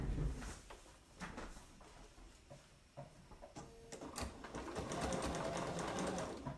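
A sewing machine stitches in quick, uneven bursts of rapid mechanical ticking while basting raw edges on a small stuffed bear, close and fairly soft, with occasional handling clicks.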